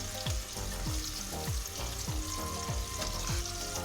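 Salt and pepper spare ribs deep fry in a pot of hot oil, making a loud, dense, continuous sizzle and bubbling with a faint repeating tonal pattern underneath and no voices.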